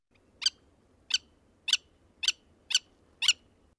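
A willet calls from a marsh in six sharp, evenly spaced bursts, each a bright, piercing note standing clearly above a soft, low background.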